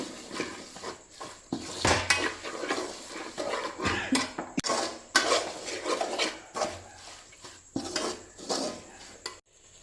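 Pepper and spice powders being stirred together for a lemon and dates pickle, a spoon scraping and clinking steadily against a metal dish, close and continuous with no talk.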